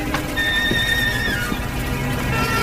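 Horses ridden into town in a 1950s western series, with steady hoofbeats and a whinny heard over a continuous rumbling bed of movement, close and fairly loud throughout.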